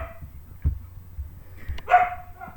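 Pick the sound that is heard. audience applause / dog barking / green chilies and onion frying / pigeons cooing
dog barking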